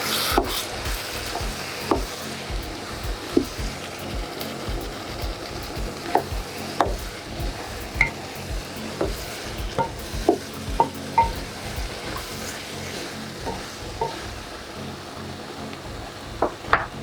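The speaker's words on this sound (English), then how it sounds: "Stir it very well." Jambalaya rice with banga extract and coconut milk is stirred in a pot, a soft continuous scraping and sloshing with scattered light clinks and knocks of the spoon against the pot throughout.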